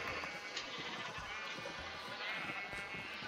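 Sheep bleat in the Minecraft video game, a wavering game bleat sounding over a steady, moderately quiet background for a few seconds.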